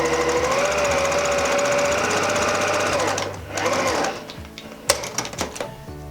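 A sewing machine runs in a fast, steady stitching burr across a fabric seam for several seconds, then stops and gives way to scattered clicks and handling knocks of the fabric and machine.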